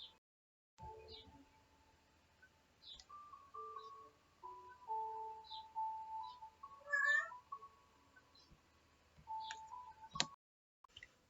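An indoor house cat meows several times up close, the calls spread through a quiet room, with faint ticking sounds in between.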